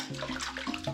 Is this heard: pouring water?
yes